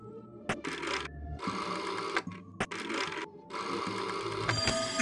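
An odd mechanical whirring from the teletrophone in the video game There Is No Game comes in repeated bursts separated by short clicks and gaps, buzzing and rattly like a telephone bell mechanism.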